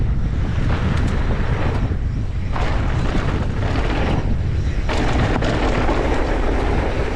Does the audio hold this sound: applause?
no